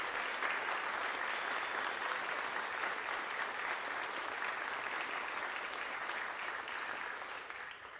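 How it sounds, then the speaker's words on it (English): Sustained applause from an audience at a school athletic hall of fame induction ceremony, an even wash of clapping that holds steady for several seconds and tapers slightly at the end. "Give them another round of applause as a group"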